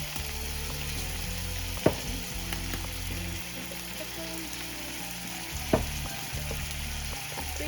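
Chicken frying in a pan sizzles steadily and softly, with two sharp knocks from handling the pan and light crackles, and no one speaks.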